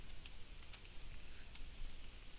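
Light, scattered keystrokes from someone typing numbers into an Excel 2013 spreadsheet on a computer keyboard, faint against a steady background hiss, with no speech.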